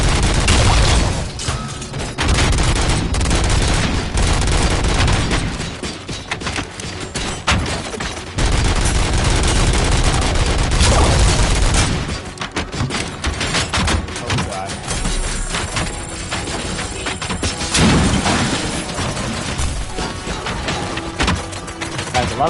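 Heavy, sustained gunfire from the RoboCop video game, dense bursts and booming shots rolling almost continuously at loud volume, with a voice talking intermittently over the barrage.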